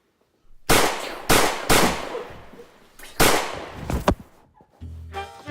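Four or five sharp gunshots ring out in quick succession during an arrest in an action movie, each a loud, close crack with a short ringing tail, followed by quieter clatter and a brief voice.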